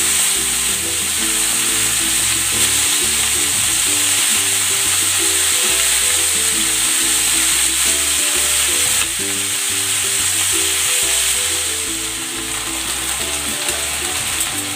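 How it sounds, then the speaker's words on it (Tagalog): Chicken pan-fries in hot cooking oil with a loud, steady, dense sizzle that crackles continuously throughout. Occasional soft clinks and stirring sounds come through under the sizzle, with no talking. "Ipan-fry ko muna itong chicken."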